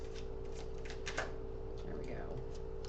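Tarot cards being shuffled by hand, a soft papery riffling that comes in short bursts, close and quiet, with a low steady hum running underneath.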